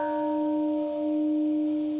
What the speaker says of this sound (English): A bell to mark the moment that killed thousands.